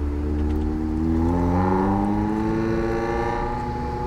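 Toyota sports car on a race track with a stock exhaust, its engine droning steadily and rising slightly in pitch as it drives past, loud and continuous with no talk.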